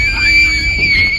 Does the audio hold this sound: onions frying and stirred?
no